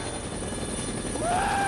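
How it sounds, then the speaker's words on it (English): A helicopter in the video game Dead Rising drones steadily and loudly throughout, with a rising whine near the end and no talk over it. "This was just supposed to be a helicopter tour."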